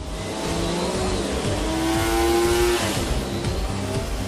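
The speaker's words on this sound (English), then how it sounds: "This is the dyno room where we mainly developed the engine." An MV Agusta three-cylinder motorcycle engine runs on a dyno in a test room with a loud, steady, sustained roar that rises slightly in pitch midway. There is no talk.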